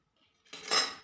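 Protein salad being tossed in a bowl, with a quiet start and then a burst of close, bright clinking and scraping of utensils against the dish for the last half second.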